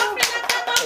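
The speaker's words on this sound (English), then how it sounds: "If I'm receiving this clap offering" Three sharp claps ring out in under a second at a lively banter show, spaced evenly and close by, with chatter faintly underneath.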